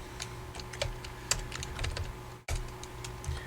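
Rapid, close keyboard typing on a computer during a programming lecture, an uneven stream of light key clicks over a faint steady hum, with one brief dropout.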